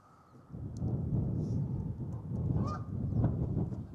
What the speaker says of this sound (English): Oh, there goes some birds.